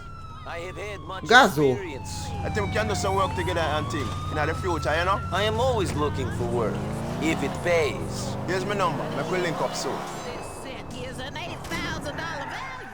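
Police car sirens in the GTA IV video game wail and sweep in pitch over the whole stretch, mixed with game noise and a loud thump early on, while excited voices talk over them.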